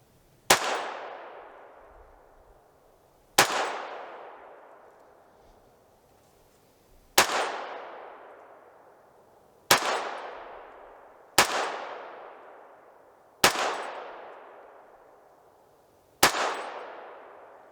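An AR-15 rifle fitted with a Caldwell brass catcher fires seven single shots at irregular intervals over about seventeen seconds, each a sharp loud crack with a ringing decay, no talking.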